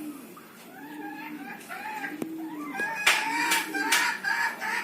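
Chickens cluck repeatedly at close range, and a rooster recovering from a snoring respiratory illness joins in. Several louder, sharper calls near the end suggest it is starting to crow.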